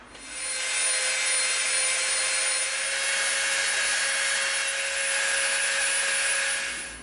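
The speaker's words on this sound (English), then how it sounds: "We're going to come in with our Dremel and we're going to soften this edge up." Dremel rotary tool sanding and rounding the edge of EVA foam, a steady high-pitched whirring grind that runs continuously and close for several seconds with no talking.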